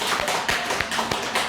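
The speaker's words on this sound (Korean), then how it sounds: "박수 한번 쳐드릴까요?" An audience in a Korean church service breaks into applause during a sermon, heard as steady, rhythmic clapping that fills the space evenly.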